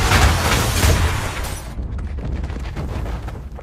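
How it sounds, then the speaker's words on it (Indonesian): A pot bomb detonates in an action film, a loud booming blast that fills the first half second and rumbles on, then decays into a lingering crackling tail with no speech. "bom panci yang sudah dipersiapkan Solotov sebelumnya meledak dan membuat Isaac terpental."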